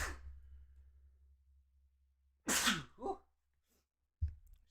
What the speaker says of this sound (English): A little sneeze right there.